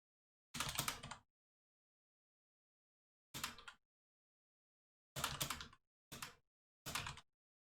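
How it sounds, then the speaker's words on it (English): Keyboard typing in five separate bursts of rapid key clicks, with silent pauses between them, close and clear. "by typing them out."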